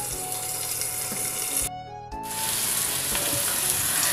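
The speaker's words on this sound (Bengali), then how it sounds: "বেগুন আর আলুটাকে ভেজে নেব।" Eggplant and potato pieces fry in oil in a pan, a loud, steady close sizzle that cuts out briefly, then resumes with a crackling hiss.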